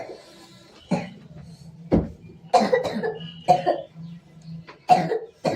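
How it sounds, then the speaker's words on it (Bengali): A person with a cold coughs in several sharp, close bursts spread through a few seconds, separated by short pauses over a steady low hum. "এত কাশছিস কেন? কি হয়েছে?"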